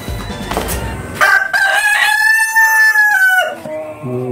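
A rooster crows loudly and close in one long drawn-out call, with brief clucking from Rhode Island chickens just before and after.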